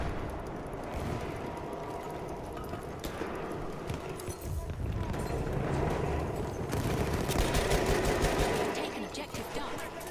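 Repeated shotgun blasts from a Sjogren Inertial in Battlefield 1 sound over a continuous, busy battlefield din, steady and fairly loud throughout, with a voice faintly present.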